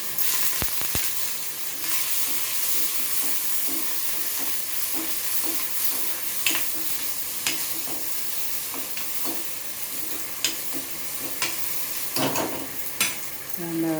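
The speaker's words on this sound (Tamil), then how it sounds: "கொஞ்சம் சின்ன வெங்காயம் சோம்பு சீரகம் ஒரு பச்சை மிளகாய் போட்டு நசுக்கி வச்சுருக்கேன் அதில் போட்டு நடுவேன் கொஞ்சம் கருவேப்பிலை" Crushed shallots, fennel seeds, cumin, green chilli and curry leaves fry in hot oil for a cabbage kootu, a steady close sizzle broken by repeated sharp spatters and stirring scrapes.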